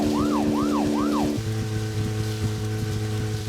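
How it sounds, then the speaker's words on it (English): Police car siren in the game Deadly Premonition, several loud rising-and-falling wails that stop abruptly, leaving a steady car engine hum beneath. "Oh, I can't use the siren anymore."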